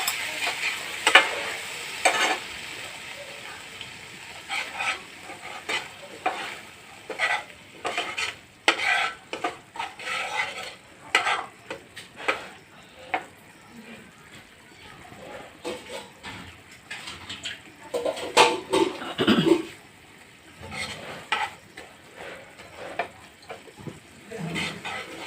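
Mustard and poppy seed paste mixed with water frying for a prawn malai curry, with soft sizzling under frequent sharp clinks and scrapes of a utensil against the pan, close up, uneven in rhythm, and with no voices.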